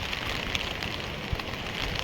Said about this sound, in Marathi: पाऊस चालू झालेला आहे